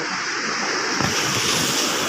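Strong sea waves surge against a seawall in the wake of Typhoon Kristine, a steady broadband wash of surf and wind, loud and continuous with no pause for the full two seconds.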